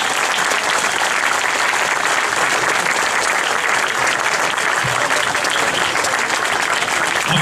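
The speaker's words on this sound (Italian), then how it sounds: "Applauso che sale il vincitore della Rotonda" Sustained applause from a large audience at the Rotonda 2012 prize ceremony in Livorno as the winner comes up, dense and continuous clapping filling the hall throughout.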